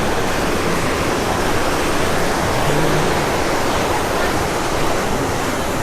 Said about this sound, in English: Here's a flow rider. Got some of the flow riding right now. Riding the waves.